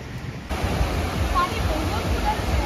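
Surf on a beach at Gokarna, a steady broadband wash of breaking waves that swells in after a brief quieter opening and then rolls on continuously, close and fairly loud, with no talk over it.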